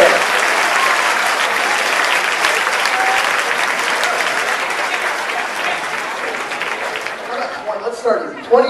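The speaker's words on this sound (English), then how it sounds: "Big round of applause for them." Sustained, loud applause from a large audience at a charity auction gala fills the space, steady for most of the stretch before thinning into scattered claps and a few voices at the end.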